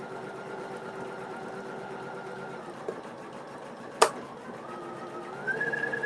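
A sewing machine stitching a quilt block, a faint steady whir with a sharp click partway through, then a slightly louder burst of stitching at the end.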